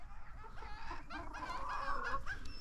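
Hens clucking and murmuring close by, a few overlapping calls rising into a louder squawk, with a low rumble underneath.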